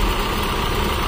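A car engine idles as a mechanic listens through a stethoscope, a brief, close, steady low rumble with vibration.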